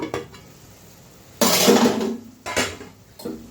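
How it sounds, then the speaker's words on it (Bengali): A metal lid lifted off a pan of potato, pointed gourd and paneer curry: a quiet start, then a bright clattering scrape, followed by two shorter clinks, close by. "ঢাকনাটা উঠিয়ে দিই।"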